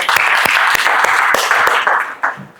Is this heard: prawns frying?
no